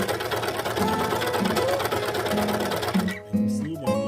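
Sewing machine stitches and trims bag material, a loud steady motor whir with rapid needle chatter, close by, that briefly halts and restarts near the end.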